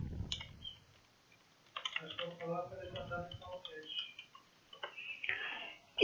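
A computer keyboard typing a folder name, with quick soft clatters of keys in a close, quiet room after a short pause, and light talk in between.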